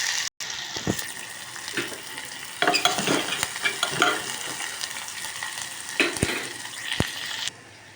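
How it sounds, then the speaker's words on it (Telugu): Onions frying in hot oil in a pan for a Telugu-style mutton curry, a steady close sizzle with stirring scrapes and occasional sharp clinks of a spoon against the pan, no voices. "ఈ నూనె వేడెక్కాక ఉల్లిపాయలు వేసుకోవాలి"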